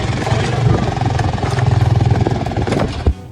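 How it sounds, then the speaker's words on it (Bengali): A motorcycle engine climbs a slope near the Padma bridge, close and loud, with a steady mid-pitched throb and some rattling before a brief bump near the end. "যে আমি আমার বাইক নিয়ে উঠতেছি।"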